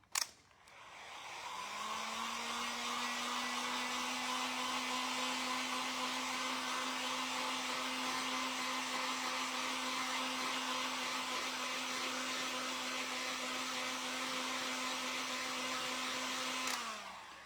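A hair dryer drying a coffee-aged paper tag, switched on with a click and blowing a steady, loud whirring hum with a constant tone for about fifteen seconds before switching off, close by with no talking.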